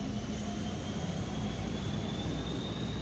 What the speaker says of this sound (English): Do you hear that train?